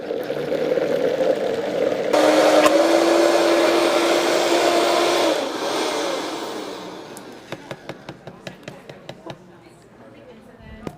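A blender whirs loudly and steadily through tomato sauce with honey in a restaurant kitchen for about five seconds, then winds down into lighter clatter and a run of sharp clicks.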